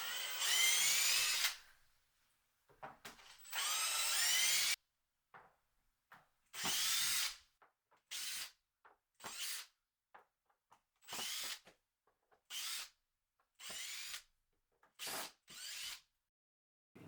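A power drill backs screws out of a resin mold in a workshop, a series of loud whirring bursts of varying length, some long and several short, with quiet pauses between each.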